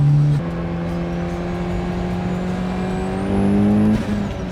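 A turbocharged Mazda Miata engine drones steadily at high revs on a race track, its pitch climbing gradually then shifting with a gear change, loud and close like riding onboard.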